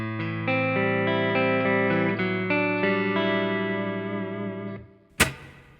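Clean electric guitar chords in a jazz fusion style ring out with a light reverb tail, played steadily for several seconds before a sharp pick scrape at the end.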